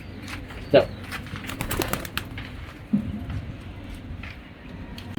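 A racing pigeon is let go outdoors with a quick burst of wing flaps near the start and another faint flutter later, while someone talks in Bengali over light background noise.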